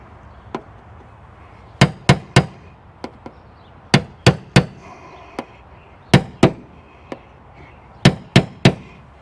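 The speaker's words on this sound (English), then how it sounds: "I'm doing body work with a punch and a hammer" Sharp metallic hammer-on-punch strikes on the body of a 2014 Dodge Charger ring out in quick bursts of two or three, with short pauses between groups, loud and close with no talking.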